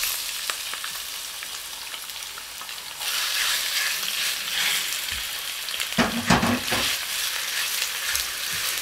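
Pork sizzles and fries in a pan, a steady crackling hiss that intensifies as it is stirred, with a few clattering scrapes of a utensil.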